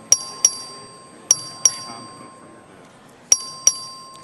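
A voting bell rings repeatedly in a state legislative chamber during a roll-call vote, sharp metallic dings in pairs, six strikes in all, each ringing out briefly over quiet room tone.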